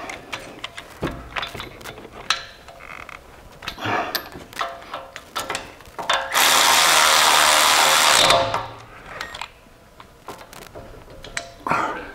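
A Milwaukee electric ratchet tightens a bolt on the rear brake of a 2010-2017 BMW 535i F10, with loud rapid clicking bursts and a sustained whirring run in the middle, heard close with no talk.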